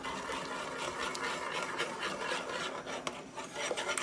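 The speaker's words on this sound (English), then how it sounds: "just using an old-fashioned potato masher, no special tools needed" Boiled potatoes being mashed with an old-fashioned hand masher, a quiet, continuous squishing and rasping scrape with small irregular knocks throughout, close by and without speech.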